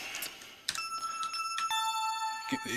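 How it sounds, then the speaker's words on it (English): Ambient bell tones in a beat, soft chime notes ringing out and sustaining in a simple, easy melody with one key change, layered over a quiet background with a few sharper hits. "I like ambient type bells as well."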